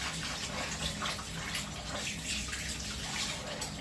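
Water runs steadily from a kitchen tap, a continuous close hiss and splash with no talking.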